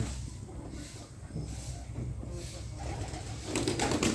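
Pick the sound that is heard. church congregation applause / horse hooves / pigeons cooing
pigeons cooing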